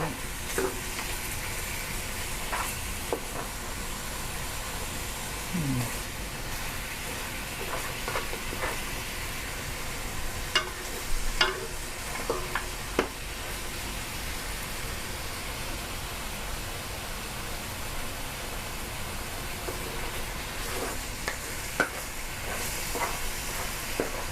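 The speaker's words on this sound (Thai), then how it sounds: "รวนหมูก่อนหมูก็จะไม่ติดกระทะนะคะ" Pork sizzles and fries in a hot oiled pan, a steady crackling hiss with occasional clinks and scrapes of stirring, no voices.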